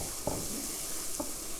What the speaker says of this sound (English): heat our pan to medium-high. And then we're going to add 2 cups of chopped vegetables.